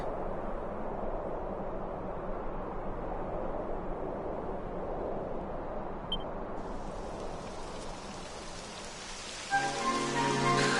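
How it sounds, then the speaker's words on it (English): Steady rain falls in the video game Dragon Quest XI, a continuous hiss that grows brighter and heavier partway through, with a denser patter near the end and no voices. "It would have to go and start raining, wouldn't it?"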